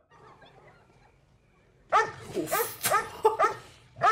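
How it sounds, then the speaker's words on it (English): Dog barking in the 1981 horror film Halloween II, a run of sharp, fairly close barks and yips that starts abruptly after a quiet, low-level stretch. "No, that was the dog."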